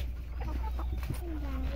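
Hens in a backyard chicken coop, where eggs are being collected, cluck in short scattered calls at moderate distance over a low steady background hum.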